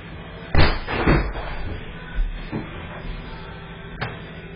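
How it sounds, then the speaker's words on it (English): Intruders bang on the front door of a building, with a few heavy thuds and slams spread irregularly over several seconds against a steady background noise, no talk. "They attempt to break down the front door."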